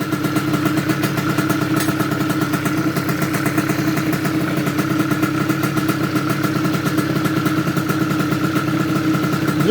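An MBK 51 moped engine runs steadily nearby with a buzzy, clattering two-stroke drone that holds a fairly even pitch throughout and only swells slightly with the throttle.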